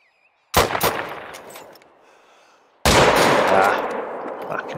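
Two loud, close rifle shots from a Yukon wolf hunt in The Hunter: Call of the Wild, each a sharp crack followed by a long rolling echo that fades out slowly, about two seconds apart.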